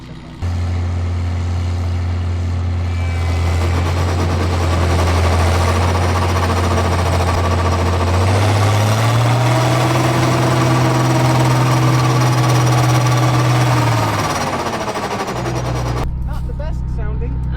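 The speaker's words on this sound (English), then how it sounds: "He's going to bring it over here and just spin the header up and see what happens" Hay equipment header spinning up, a loud steady machine drone with a low tone that rises in pitch as it gains speed, holds there, then winds down at the end.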